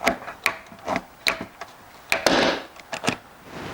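Setting tool squeezing a hollow wall anchor inside plasterboard, a quiet series of sharp creaks and clicks in an uneven rhythm with a brief rasping grind, close and faint.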